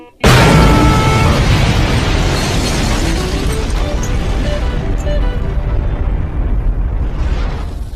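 A cartoon bomb from SpongeBob goes off with a sudden loud blast, then a long, dense rumbling roar that slowly thins out over several seconds, with no talk.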